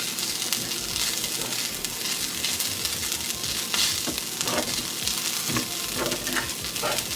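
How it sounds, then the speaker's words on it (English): A sauce mixture for vegan Jamaican patty filling sizzles in a hot pan while it is stirred, producing continuous crackling with repeated scraping strokes and occasional clinks throughout. "I'm going to give this a mix."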